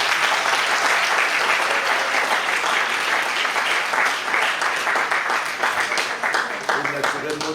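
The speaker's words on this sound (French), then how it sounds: "Applaudissons les championnes," Wedding guests applaud the two brides in a dense, sustained burst of clapping that fills the room, with voices audible underneath toward the end.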